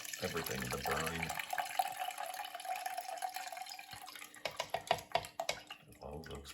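Brine and vegetables for fermented hot sauce are poured into a blender in a close, trickling liquid stream, followed by sharp clunks and splashy knocks as solids drop in.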